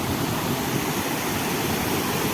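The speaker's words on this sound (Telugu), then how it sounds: "ఇది చాపరాయి వాటర్ ఫాల్స్ వాటర్ చూడండి ఫ్లో అవుతుంది" Chaparai waterfall near Araku, a dense unbroken roar of rushing, falling water, loud and steady from start to finish, with no voices.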